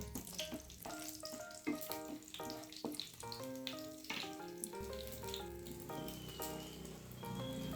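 Whole cumin, whole garam masala and dried red chillies crackle and sizzle in hot mustard oil in a kadai, partly masked by background music.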